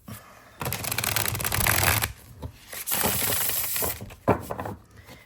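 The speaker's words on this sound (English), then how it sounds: "Beautiful shuffle, right?" A tarot deck is shuffled in two or three quick riffling bursts, each a crisp flurry of flapping cards, close and fairly loud.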